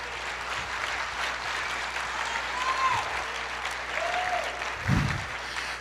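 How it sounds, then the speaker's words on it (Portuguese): Congregation applauding during a church sermon, a steady wash of clapping at moderate level with faint voices and brief cries rising through it. "Aplauda mais"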